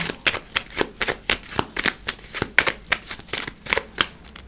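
Tarot cards are shuffled and drawn up close: a quick, steady run of crisp riffling flicks and soft slaps, fairly loud and uninterrupted, with no voice.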